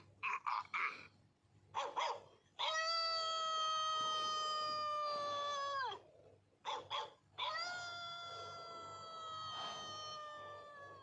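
A dog's howl mixes with short yelping barks in a cartoon scene: clusters of sharp barks alternate with two long, sustained siren-like howls, fairly faint overall.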